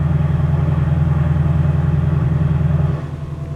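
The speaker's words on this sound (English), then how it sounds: "I'm going to put the exhaust in quiet mode here." A 2024 Ford Mustang S650 runs nearby with its exhaust set to quiet mode, giving a steady low idle drone that drops slightly in level near the end.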